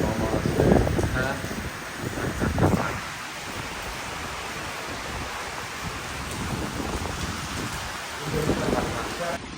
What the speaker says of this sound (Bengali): কঠিন বৃষ্টি হচ্ছে, অনেক জোরে জোরে বৃষ্টি।